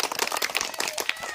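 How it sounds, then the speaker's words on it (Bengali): Children clapping their hands at a primary school reading festival, a quick patter of light, uneven claps heard close for a brief moment. "হাততালি দাও।"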